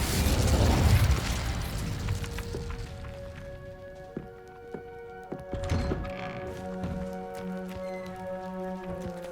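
Incendio fire spell cast in Hogwarts Legacy: a loud low whooshing burst at the start that fades into a sustained tonal hum, with a few short thunks and pops later under steady game ambience.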